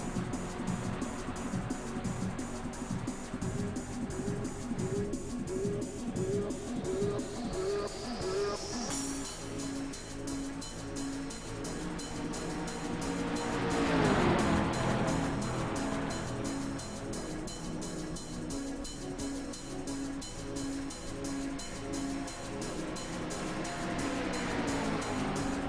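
Race cars roar in a sim racing video game, their engines droning loud and continuous as the field takes the green flag. The pitch climbs and falls with gear changes, and one sharp sweep stands out near the middle.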